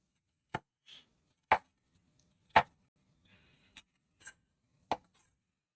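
A knife chops tomatoes on a cutting board for guacamole, making about five sharp, isolated thuds spaced roughly a second apart, close and clear with quiet gaps between them.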